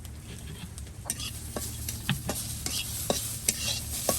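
Food sizzles loudly in a pan while a utensil stirs and scrapes, with sharp clicks at irregular intervals.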